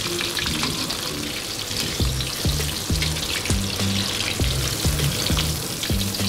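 Pakoras deep fry in hot oil with a dense, bubbling sizzle, while rhythmic clinking knocks of a utensil against the pan repeat about once a second, close up, with no voices.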